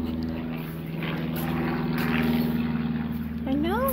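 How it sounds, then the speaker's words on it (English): A propeller airplane passes overhead outdoors on a misty day, a steady droning hum that swells slightly and stays loud throughout, with a brief squeaky sound near the end. "Airplane."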